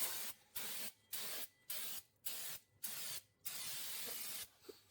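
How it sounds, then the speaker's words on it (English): Brake cleaner is sprayed onto a car's brake rotor in several quick hissing bursts, close and sharp, with short silent gaps between them and one longer burst near the end. "we are going to spray this rotor with the brake clean to remove any protective coating that's on it"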